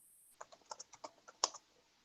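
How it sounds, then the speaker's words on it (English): Quick, quiet clicks of fingers typing on a computer keyboard, about a dozen irregular keystrokes with one sharper tap, close and alone in a quiet room. "Someone's typing something to somebody."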